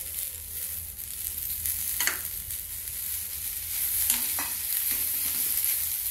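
Tomatoes fry in oil with ginger for chhole bhaji, a close, continuous sizzle broken by a few scraping stirs of a spoon in the pan, with no one speaking.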